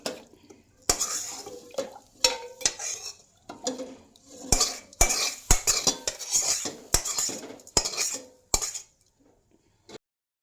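A metal spoon stirs vegetarian food in a kadai, scraping and clinking against the pan in irregular bursts. The strokes come close and fairly loud, with quiet gaps near the end.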